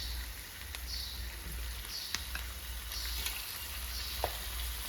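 Chicken liver pieces frying in hot oil, a steady close sizzle with a few soft pops and stirring taps throughout.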